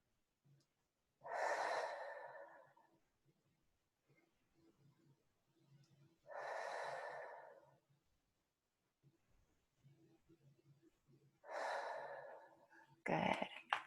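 Deep breaths during a guided breathing exercise: three slow, loud, airy exhalations spaced several seconds apart, heard close with quiet gaps between, ending in a sharper breath.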